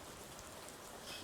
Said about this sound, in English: The downpour finds its way into the drainage canal,